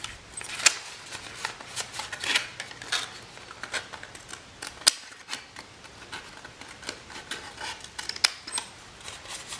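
Scissors snip steadily around a papercraft skull's face, a run of small crisp cuts and rustles close by, some sharper clicks standing out, with no talking.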